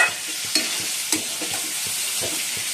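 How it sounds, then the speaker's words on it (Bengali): Fish curry with mustard paste sizzles in a pan while a utensil stirs and scrapes it, producing a steady hiss broken by regular soft knocks against the pan, close and alone. "ভাবছি এখন মাছের ঝাল করবো সর্ষে বাটা দিয়ে"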